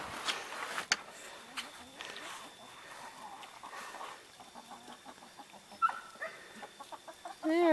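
Chickens cluck and squawk as they are let out of their pen, with scattered soft clucks building into louder, rising calls near the end, mixed with light rustling and handling noises.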